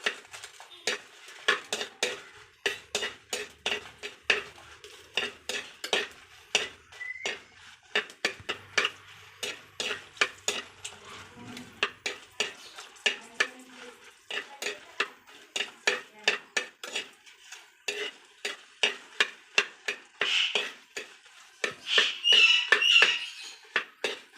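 Horse gram being roasted in a little oil in a pan for chutney, with a long run of sharp rhythmic scraping and stirring clicks from a utensil, close and fairly quiet, with no talking.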